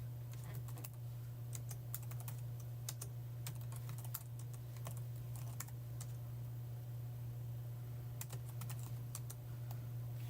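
Someone types on a computer keyboard during a casual livestream, with a steady stream of quick, light key clicks in irregular bursts over a constant low electrical hum.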